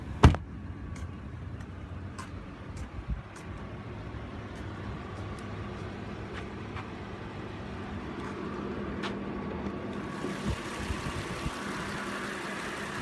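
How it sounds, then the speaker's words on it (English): A 2016 Audi A8L's 3-liter TFSI supercharged V6 idles quietly under the open hood, a faint steady hum with scattered clicks and ticks, growing slightly louder toward the end. "Under the hood is a 3-liter TFSI supercharged V6 engine with 8-speed Tiptronic transmission"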